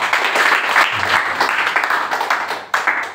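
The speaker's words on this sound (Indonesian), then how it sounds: "Tepuk tangan dulu dong." Audience at a church faith seminar breaks into applause on cue, a steady wash of clapping that stays fairly loud throughout with a sharp burst near the end, no talk over it.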